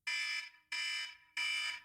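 A timer alarm goes off to end a discussion segment, with three loud, evenly spaced electronic beeps, each lasting about half a second, ringing alone.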